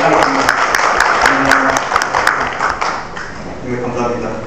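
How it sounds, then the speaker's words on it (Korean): Audience applause at a public-agency meeting, a sustained crackle of many hands that thins out after a few seconds as a voice begins speaking over the fading claps. "큰 박수로 응해 주시기 바랍니다"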